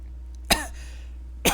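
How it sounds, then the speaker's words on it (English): Two short, sharp coughs heard close by, one after another with a pause of about a second, over a low steady hum. "That's not the first cough this guy has had."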